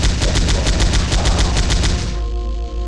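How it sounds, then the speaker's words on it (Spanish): Mummy enemies firing in the video game Powerslave Exhumed, a rapid rhythmic burst of about a dozen loud repeated shots in quick succession that stops abruptly and leaves a low humming tone. "los disparos que hacen las momias son como una especie de disparos rastreadores"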